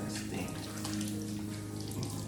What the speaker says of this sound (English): So, wash my hands here because it's starting to sting.